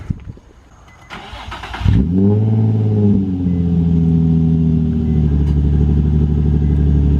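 A Nissan 350Z engine, fitted with test pipes, cranks briefly, catches and roars to life, then settles into a loud, steady idle with a rising rev near the end.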